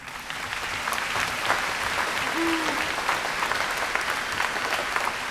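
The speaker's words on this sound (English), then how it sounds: "so I'm going to give them another round of applause" Steady applause from a graduation crowd for student speakers at a high school commencement ceremony, a dense continuous clatter of many hands holding at an even level for several seconds.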